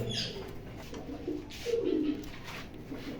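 A racing pigeon coos close by, a few soft throaty rolling calls over quiet background.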